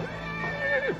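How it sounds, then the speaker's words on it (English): A horse lets out a single rising-and-falling whinny, fairly clear and sustained for about a second, heard from a dramatic TV scene. "The horse is getting worked up."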